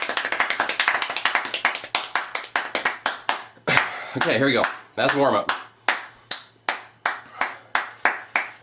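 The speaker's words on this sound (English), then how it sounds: "It's like that guy who claps his hands, the fastest hand clapper." A record-setting fast hand clapper claps at blistering speed: dense, rapid-fire sharp claps in quick bursts, then a pause and slower, separate claps near the mic, with someone speaking briefly between them.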